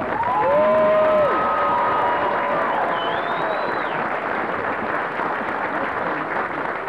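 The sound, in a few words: crowd applauding drill sergeants at Fort Benning graduation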